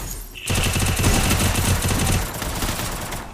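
Automatic gunfire from a battle-royale style video game during a solo-versus-duo match, a loud sustained burst of rapid shots lasting about two seconds after a brief quiet start, then tailing off into game ambience.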